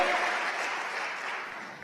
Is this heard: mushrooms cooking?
no